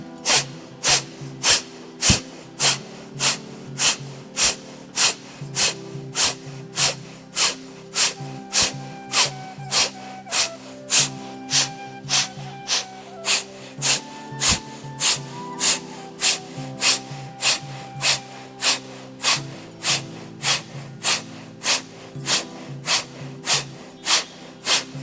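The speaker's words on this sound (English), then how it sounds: "inhale, put your palms on your thighs and exhale forcefully." Forceful yoga exhalations, short sharp nasal bursts repeating in a fast even rhythm about twice per second, loud and close, over soft instrumental background music, no talk.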